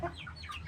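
A few soft, low clucks from a brooding hen sitting on eggs come close by, with faint chirps of chicks or other birds scattered above them.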